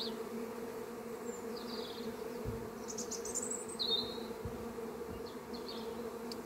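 A steady hum of honey bees buzzing continuously at a hive, with a few brief higher chirps from birds off in the distance.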